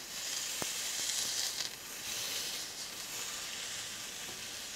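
An onion burger patty being smashed down in a hot pan gives a steady, close, loud sizzle and hiss, with a few sharp crackles early on and no talking.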